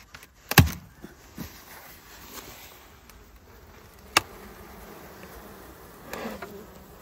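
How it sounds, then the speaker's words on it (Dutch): Honeybees at a hive early on a cold, misty morning around 7 degrees make a faint, steady hum. A few sharp knocks and clicks break through, and a louder rustle comes near the end. "En ook hier zie je een mooie bak bijen."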